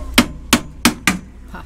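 Four sharp metallic hammer strikes at an even pace, close and ringing briefly, followed by a fainter fifth knock.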